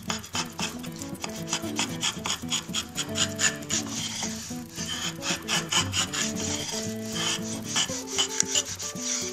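A router plane fitted with a 1/4 inch cutter shaves wood in quick repeated rasping strokes, close and steady, with no talking.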